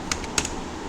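A few key presses on a computer keyboard during Rhino drafting work, with one sharper, louder click standing out among softer taps, close and alone over faint room hiss.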